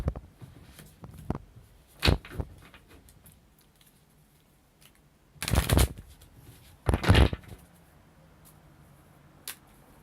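Several quick riffling bursts of tarot cards being shuffled, separated by pauses, close and crisp, with a few light taps between.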